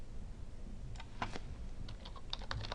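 Typing on a computer keyboard while setting up a robot motor program, a few quiet scattered keystrokes and short clusters of taps over a steady background hum.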